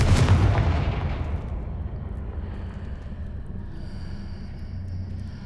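A Confringo blasting spell bursts in Hogwarts Legacy, one loud booming explosion that decays into a long rumbling tail and low ambient noise.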